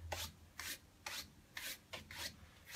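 A paintbrush sweeps acrylic paint onto a canvas to form a beach's sand, with six short scratchy strokes in an even rhythm, close but quiet.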